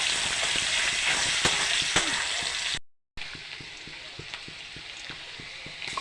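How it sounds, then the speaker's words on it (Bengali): A large onion fries in a pan with a steady, close sizzle and scattered crackles and stirring scrapes, broken by a short pause before the frying resumes. "একটা বড় পেঁয়াজ দিয়ে দেবো, একটু লাল লাল করে ভেজে নেবো"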